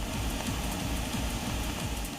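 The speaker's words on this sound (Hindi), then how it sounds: "पश्चिम सिंहभूम में पिछले कई दिनों से भारी बारिश हो रही है।" Heavy rain falls in a steady, dense wash during flooding in West Singhbhum, Jharkhand, with a constant low rumble beneath the hiss and no voices.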